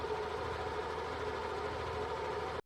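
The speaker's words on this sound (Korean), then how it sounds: "조정 전 엔진 소리입니다." A Yamaha NMAX125 scooter engine idles before a valve clearance adjustment, producing a steady, even low rumble with a faint rhythmic pulse that cuts off abruptly at the end.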